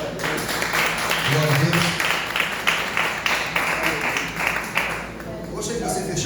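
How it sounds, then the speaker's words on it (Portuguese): A church congregation applauding the Lord while standing during a sermon, a broad sustained clapping texture under loud preaching and a voice praising God. "Vamos ficar de pé nesse momento, aplauda o Senhor."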